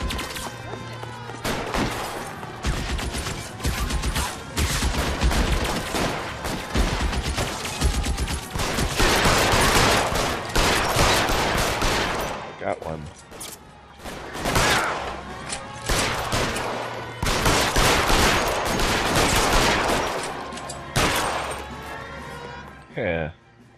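A gunfire shootout in the video game L.A. Noire brings rapid, repeated shots and bursts of automatic fire, loud and close, going on almost without pause with short lulls, while voices call out at times.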